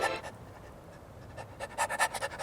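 A dog pants close by in quick, rhythmic breaths, faint at first and then louder and steadier toward the end, heard alone with no talking.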